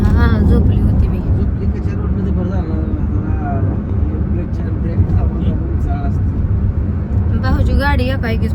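Car driving on a rough road with speed breakers and potholes, a steady low engine and road rumble running beneath someone talking throughout, with other voices chiming in near the end.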